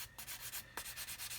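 Sandpaper rubbing back and forth on a plastic part of an Airfix 1/72 Vulcan model kit, a close, steady series of rasping strokes in a quick rhythm with no talking.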